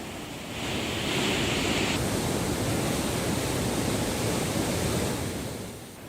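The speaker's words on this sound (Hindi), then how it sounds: "आज 5000 क्यूसेक पानी की निकासी बैराज के 2 गेट खोलकर की जा रही है।" Water roars out through two open gates of the Kota barrage on the Chambal river, a steady, broad rushing torrent that swells in, holds at full strength and then eases slightly, with no voices.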